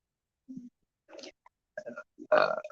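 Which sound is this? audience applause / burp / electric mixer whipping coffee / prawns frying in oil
burp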